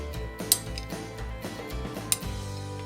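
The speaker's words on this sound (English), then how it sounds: "I'll mix this to combine." Pesto, grated Parmesan and shredded mozzarella are stirred together in a bowl, with soft scraping and two sharp clinks of a utensil against the dish, close and fairly quiet.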